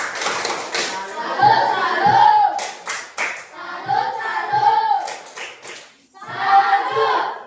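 Classroom group clapping the rhythmic "tepuk salut" cheer for a presenting student group, several short bursts of patterned hand claps with voices chanting along.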